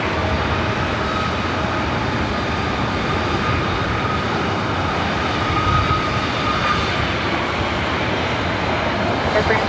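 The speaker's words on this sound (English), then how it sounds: "Air Canada A321 next up." An Air Canada Airbus A321 jet at a busy airport, a loud, continuous broadband engine roar holding steady throughout with a faint hiss on top.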